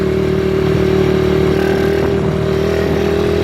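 A Deadpool pit bike engine runs during a test ride, a loud, close, steady buzzing drone with a constant pitch throughout and no talking.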